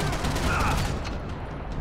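Gunfire in the video game Max Payne 3, a dense continuous barrage of shots filling the whole stretch at steady loudness, with a faint voice buried in the din.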